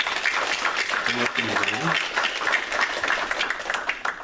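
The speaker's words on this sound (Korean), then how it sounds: "우리 귀한 가정에 격려의 박수 한번 하도록 하겠습니다" A church congregation at a Sunday worship service claps in encouragement for a family. The clapping is a steady, moderately loud patter lasting several seconds, and someone briefly speaks over it.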